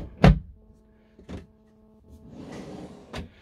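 A deep storage drawer beside the queen bed of an integrated Mercedes Carthago C Tourer i150QB motorhome is pulled open, with a sharp knock, a second bump and a soft sliding rumble before a final clack, close and alone.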